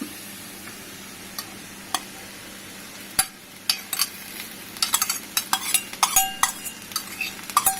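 Radish curry with chopped radish leaves is stirred in a pan: sharp spoon clicks and scrapes against the metal, sparse at first then quick and clustered, over a soft low sizzle.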